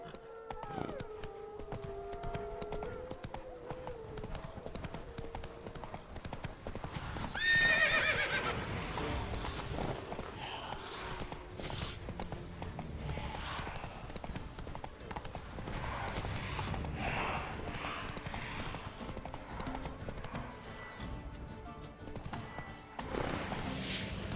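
Horse in The Witcher 3 trotting with steady clip-clop hoofbeats and letting out a clear neigh early on, the hooves continuing rhythmically under game music and ambience.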